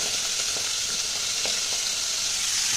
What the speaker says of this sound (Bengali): চিংড়ি মাছটা আগে ভেজে নেব।